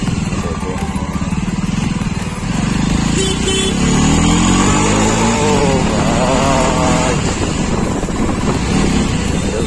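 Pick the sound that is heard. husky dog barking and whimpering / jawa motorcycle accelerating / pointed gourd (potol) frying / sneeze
jawa motorcycle accelerating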